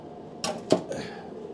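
A ratchet turns a bolt inside a housing during garage work, giving two or three short clicking bursts close by with quiet gaps between.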